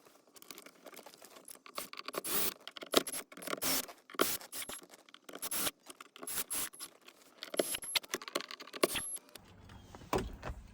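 Wiring loom rubbing and scraping inside a GM Silverado/Sierra truck dash as a wireless charging pad panel is moved, giving dense irregular scratching and rustling bursts, close and fairly loud, with no talk.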